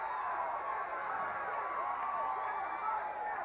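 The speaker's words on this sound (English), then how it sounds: "And listen to this crowd." A pro wrestling arena crowd cheers and roars steadily at a distance, a sustained rumble of voices beneath a commentator's talk during a Freebirds match.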